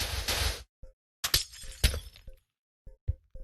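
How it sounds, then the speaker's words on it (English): Glass smashes in a burst of sharp, bright shattering crashes, followed by a few scattered tinkling fragments and short pauses, close by and loud. "the sound of glass smashing very shortly"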